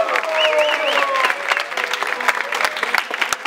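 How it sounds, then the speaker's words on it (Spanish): Crowd applauding and cheering at a rap battle quarterfinal in Tampico, loud dense clapping at first, then thinning into scattered claps with a whistle-like tone early on. "Un aplauso para esos cabrones"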